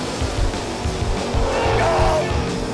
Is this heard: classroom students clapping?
no